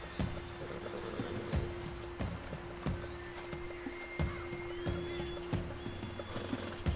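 A horse in Red Dead Redemption 2 whinnies amid a steady game soundscape, with repeated sharp clopping hoof-like thumps and a sustained low drone, all moderately loud throughout.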